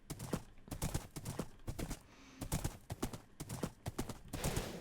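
Horse hooves clip-clopping across a bridge in the Minecraft video game, a steady run of crisp close hoof clops in a brisk rhythm, loud and clear with no talking over them.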